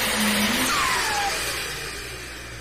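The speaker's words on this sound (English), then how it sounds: "hit the throttle, let off, and get the clutch and go, and just sail right on down the track as Travis Schwabach out of Marengo, Iowa." Pulling tractor engine at a truck and tractor pulling event revs hard and loud, then winds down with a falling whine as it runs on down the track, fading slightly toward the end.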